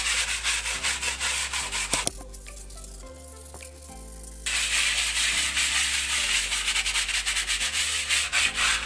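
Sandpaper rubs back and forth across a rough plastered wall, making close, loud rhythmic scraping strokes that pause briefly partway through before resuming steadily.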